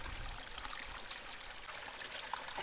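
Steady rushing and trickling of a small waterfall by a frozen lake, continuous and fairly close, with no voices.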